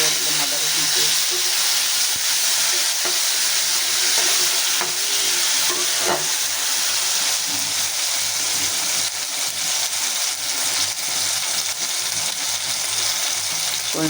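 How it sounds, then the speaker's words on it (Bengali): Fish frying in a pan on a stove sizzles and hisses steadily for the whole stretch, loud and close, with faint stirring scrapes and no talk. "চুলা দিয়ে মাছ ভেজে এটার মধ্যে মাছ বসা দিতেছি"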